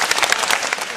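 A crowd at a summer camp gathering claps on command, a burst of loud rhythmic group clapping with several distinct sharp beats, close and energetic.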